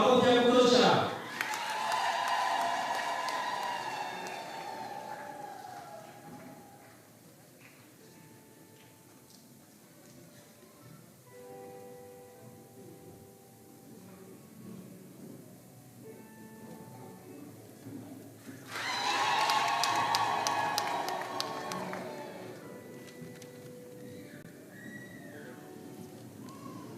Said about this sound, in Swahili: Makofi ya kutosha.